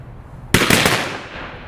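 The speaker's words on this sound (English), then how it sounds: "Fire 3 volleys." A ceremonial rifle volley fired by an honor guard at an outdoor law enforcement memorial service, a sharp, loud near-simultaneous crack of several rifles followed by a ragged echoing tail after a quiet moment.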